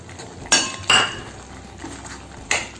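A metal spoon clinks against a pan while boiled corn is stirred into a masala gravy with capsicum, giving three sharp separate knocks amid quieter scraping.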